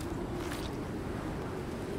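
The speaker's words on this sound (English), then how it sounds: "Okay, so it's a little bit windy." Steady wind blows across an open landscape in the survival game Icarus, a constant low rushing rumble that stays close and unbroken with no one talking.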